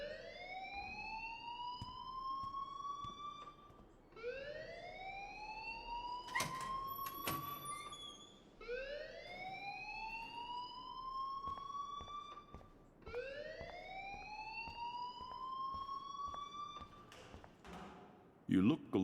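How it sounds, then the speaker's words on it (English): A fire alarm rings in the video game Life Is Strange, a loud rising electronic wail repeating about every four seconds in four long sweeps, with clicks and a brief noisy burst near the end. "please turn off that alarm since that's your job"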